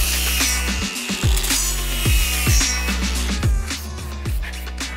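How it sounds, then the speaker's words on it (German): Fillet weld being laid on a steel heavy-duty shelf post, a steady close buzzing crackle with regular sharp pulses running throughout and no voices. "Also, auf geht's, wir schweißen mal diese Kehlnaht."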